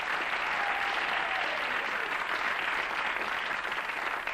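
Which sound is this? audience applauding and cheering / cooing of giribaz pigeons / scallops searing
audience applauding and cheering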